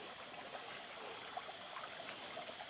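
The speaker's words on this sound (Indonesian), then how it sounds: "di samping pos BPCB ini ada anak sungai ya, jadi kita bisa ambil sumber air untuk masak ataupun minum" A small forest stream beside a ranger post near Merabu flows in a steady, soft wash of water, constant and fairly faint throughout with no talk.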